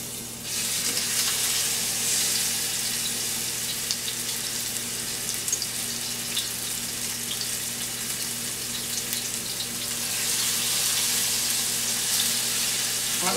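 Food frying in about two tablespoons of hot olive oil in a skillet gives a loud, steady, close sizzle that hisses continuously throughout.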